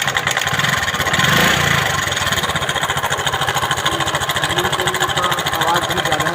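A TVS XL 100 moped with a worn timing chain idles close by, a steady, rapid mechanical chatter and knock that runs evenly throughout with no voices.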